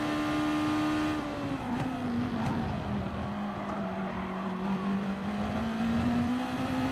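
Gr.2 race cars lapping the Red Bull Ring in Gran Turismo Sport, a steady loud engine drone that dips and climbs as gears change, with brief tire squeal and other cars passing close by.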